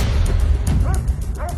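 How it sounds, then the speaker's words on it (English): A dog barking somewhere beyond a loud, constant low rumble, a few short yips and barks in quick succession, partly masked by the steady background noise. "The dog's barking."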